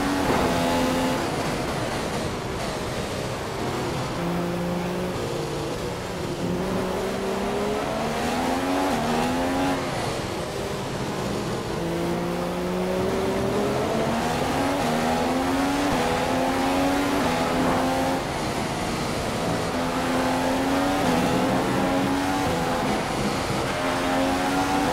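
Race car engine in a racing video game, set in Mexico, revving and accelerating loudly and steadily, its pitch climbing through repeated gear changes with no pause for the full stretch.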